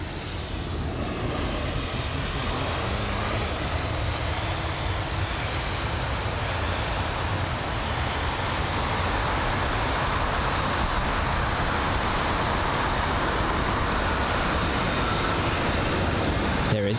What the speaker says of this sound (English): the A220 operated by Air France